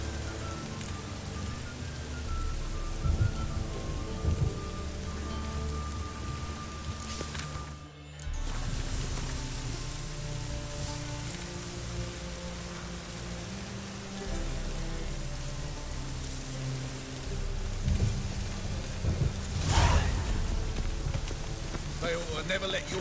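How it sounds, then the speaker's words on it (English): Steady rain falling in The Witcher video game, a continuous dense hiss on surfaces, with a brief dropout and a few sharper crashes; no clear thunder stands out, and music or game sounds sit underneath. "I like rain."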